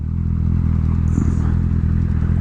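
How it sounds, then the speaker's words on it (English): A 2021 Kawasaki ZX-10R sport motorcycle engine drones steadily and loudly with a low, even rumble, heard close up through a helmet and continuous throughout. "as much as comes through my helmet, the sound of the motor."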